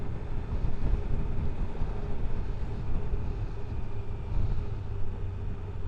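A 2021 BMW M1000RR motorcycle on light throttle gives a steady, close engine and intake drone under heavy rushing wind noise, with no clear break.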